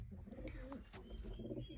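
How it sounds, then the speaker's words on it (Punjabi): A pair of pigeons coo in low, throaty bursts in their coop, close by, with a steady murmur of background noise and a few faint chirps. "ਚਿੱਟੀਆਂ ਅੱਖਾਂ ਦਾ ਕਬੂਤਰ ਆ ਤੇ ਖਟੀਆਂ ਅੱਖਾਂ ਦੀ ਕਬੂਤਰੀ ਆ"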